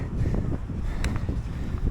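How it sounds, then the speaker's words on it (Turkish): Gusty mountain wind on a valley hike buffets the microphone with a dense, continuous low roar, loud and close throughout. "Rüzgar tekrar başladı."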